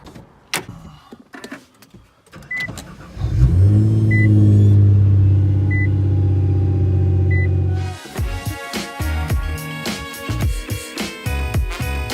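A Nissan GTR engine rumbles low and steady while faint electronic beeps repeat above it, then a loud, busy roar takes over as the car accelerates hard nearby.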